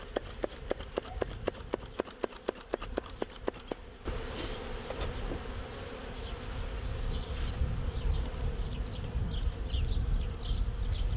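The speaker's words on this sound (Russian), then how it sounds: "Пчелки, конечно, злятся." Honey bees drone in a dense, steady buzz around an opened hive during spring expansion after wintering, preceded by a run of sharp rhythmic clicks, the swarm growing louder and fuller toward the end.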